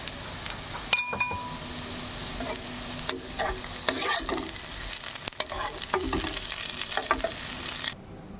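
Onion and green chili sizzle in a pan for pasta, with a steady broadband hiss, scattered stirring scrapes and a few light metallic clinks, close and continuous with no talk.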